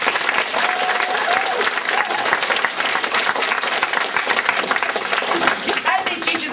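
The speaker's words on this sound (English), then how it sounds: "Let's give all of our teachers a big round of applause." A crowd at a campus talk gives its teachers a big round of applause, loud sustained clapping filling the room, with a voice or cheer faintly rising over it now and then.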